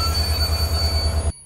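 Train in motion, a loud steady low rumble with metallic wheel whine and a high squealing tone, running continuously before cutting off abruptly near the end; no talk.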